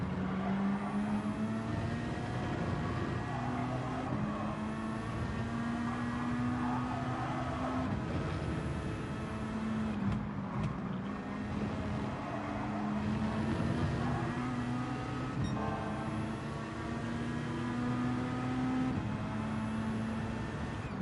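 Gr.3 race cars, a McLaren among them, drone around Road Atlanta in Gran Turismo 7 in an IMSA race; several engines hold a steady, layered whine with pitch shifts as they shift gears, continuous and fairly loud throughout.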